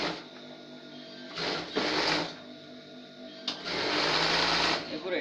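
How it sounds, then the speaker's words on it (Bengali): Sewing machine stitching the side seam of a salwar in short and longer bursts of rapid mechanical chatter, close and loud, with someone speaking throughout. "সাইডের সেলাইটা এইভাবে দিয়ে দিতে হবে।"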